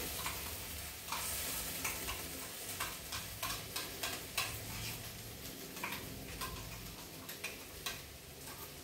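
Tomato masala paste is stirred in a hot frying pan with a spatula, making regular scraping clicks over a steady, close sizzle.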